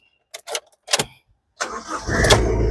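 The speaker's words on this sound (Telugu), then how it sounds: "సింగిల్ సెల్ఫ్లో కార్ స్టార్ట్ అవుతుంది ఎటువంటి స్టార్టింగ్ ట్రబుల్ అయితే లేదు" A 2015 Honda Amaze E petrol car cranks and fires on the first turn of the key, with a few short starter clicks and whirs before the engine catches and settles into a loud, steady idle close by.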